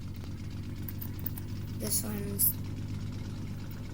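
A Bulldog tractor engine in the video game Trailmakers runs with a steady low drone under a person talking, with a couple of brief brighter clicks partway through.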